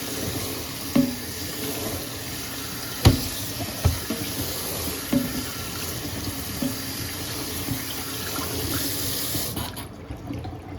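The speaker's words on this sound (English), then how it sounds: "Draining the pasta now, running cold water over it." Cold tap water runs steadily into a kitchen sink while pasta is drained, a continuous hiss of flowing water broken by a few soft clunks and knocks, close and fairly loud, with no talking.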